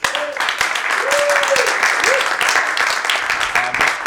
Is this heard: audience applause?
yes